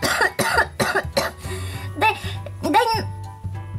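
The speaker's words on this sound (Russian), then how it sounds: "Вон как кашляешь, с ума сойти." A woman coughs in several harsh, rapid bursts at close range, with a steady low hum underneath and brief talk around the coughs.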